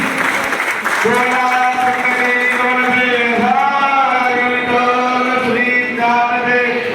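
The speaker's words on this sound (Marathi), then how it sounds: "जोरदार टाळ्या वाजवा मंडळी" An audience claps at an Ashadhi Ekadashi devotional celebration at Bhajan Bhavan, Dombivli, with steady applause running throughout under a loud sustained musical tone and voices.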